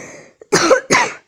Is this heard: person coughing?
yes